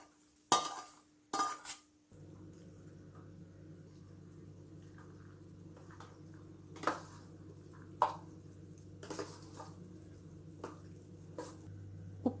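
A spoon clinks and scrapes in a bowl as curd semiya (vermicelli in yogurt) is mixed with added tempering. A few sharp clinks stand out over a steady low hum.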